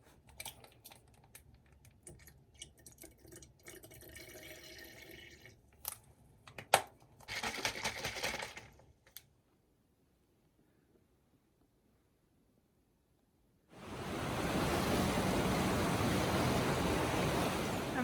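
Steady broadband rush of river water flowing at the Nantahala Outdoor Center on the Appalachian Trail, loud and continuous through the final few seconds after quieter handling noises and a silent gap.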